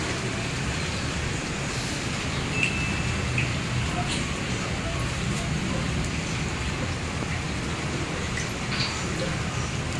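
Steady rain pours down outdoors at high tide in a continuous broadband hiss, with a low rumble underneath, filling the whole stretch without pause.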